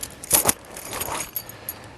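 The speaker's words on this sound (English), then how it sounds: "I'll hang my keys over here." Metal keys being hung up beside a lock give two brief close jangles, then softer clinks trail off, with no talk over them.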